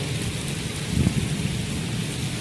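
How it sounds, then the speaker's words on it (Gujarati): Heavy rain pours down in a village during a monsoon downpour, making a steady close hiss throughout with a brief low rumble partway through. "હજી વરસાદ ચાલુ જ છે"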